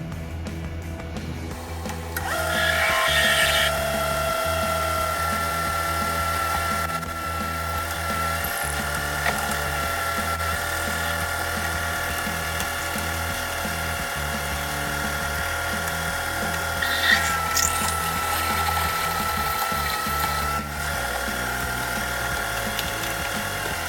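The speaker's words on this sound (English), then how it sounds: "now I'm going to run a couple drill bits in here and get our depth started" A drill runs bits into a Chevy 454 intake manifold during a repair, a steady machining whine with rhythmic pulsing cuts that continue for about twenty seconds, close and fairly loud, with no talking.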